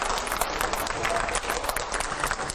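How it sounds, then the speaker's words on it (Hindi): Studio audience applauding at a televised Hindi interview as a guest, an MP and Muslim scholar, walks onto the set; dense, steady clapping fills the whole stretch at moderate level. "जोरदार तालियों से स्वागत करिए"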